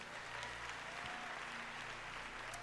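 A church congregation applauds in a steady, even wash of clapping that stays faint and distant for the whole stretch, with no voices standing out.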